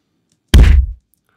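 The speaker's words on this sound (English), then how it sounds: "that's a huge hit, so this doesn't sound nearly as realistic" A designed punch hit sound effect with a layered low end lands as a single loud, heavy thud. The impact is abrupt and booming, then decays in about half a second, with silence before and after.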